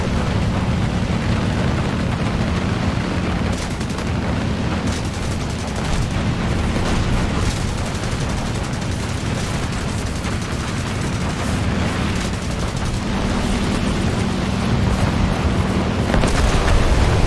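Gunfire and explosions in War Thunder naval combat around an Elco 80 boat: dense, continuous battle noise with rapid bursts and rumbling booms layered over a constant low drone, loud throughout.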